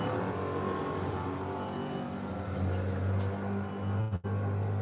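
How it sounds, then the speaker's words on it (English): Heavy equipment rumbles past outdoors near a parked aircraft, a loud, steady low drone with a rising mechanical whine that holds for several seconds before cutting off abruptly near the end. "Sorry for the loud noise. Heavy equipment coming by us here."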